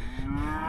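Cattle low in a farm pasture, a sustained moo rising above a steady rumble of background noise, close and fairly loud throughout.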